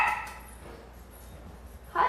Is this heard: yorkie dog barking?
yes